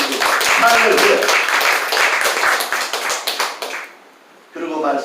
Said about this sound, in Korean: 한번 여러분들도 한번 박수 한번 쳐볼래요?